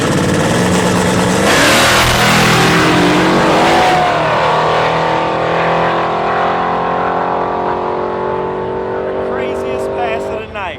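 Drag race cars make a pass, a loud roaring launch that holds a strong engine drone before fading with a falling pitch as they pull away, with talk over the noise.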